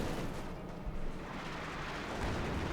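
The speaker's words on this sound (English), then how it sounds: "field guns bombarding the cannons, really punishing NosMarkov" Field guns bombarding in a Company of Heroes 2 battle; a dense, continuous rumble of overlapping booms and blasts, loud and without any talk.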